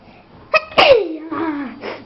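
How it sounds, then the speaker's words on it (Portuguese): A single child's sneeze bursts out sharply and close, with a short catch of breath before it and a trailing voiced tail afterward, then a brief breathy sound. "Deixa eu espirrar de novo."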